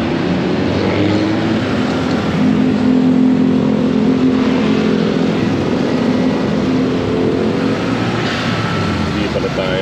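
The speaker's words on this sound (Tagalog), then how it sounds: "Mabagal ang takbo ng traffic." A car rolls along in slow-moving traffic, its steady engine drone and road rumble filling the cabin without a break, with no clear surges.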